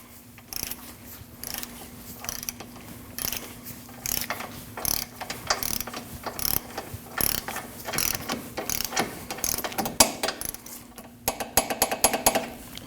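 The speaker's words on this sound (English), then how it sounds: "torque that nut down to 30 foot-pounds" Ratchet torquing a ball joint nut on a 2003-2008 Subaru Forester front suspension, a long run of close, rapid metallic clicking strokes in uneven bursts, quickening toward the end, with a steady low hum beneath.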